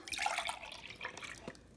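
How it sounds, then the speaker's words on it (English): Water poured out of a plastic cup, splashing and dripping into a sink in a short close burst with a softer trailing splash. "I can now dump this water out."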